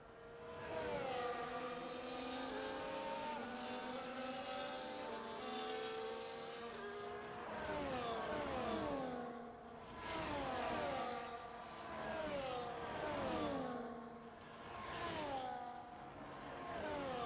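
Race cars in a racing video game rolling around Spa on the formation lap, several engines droning together with rising and falling harmonic sweeps as they accelerate and shift, steady and continuous without talk.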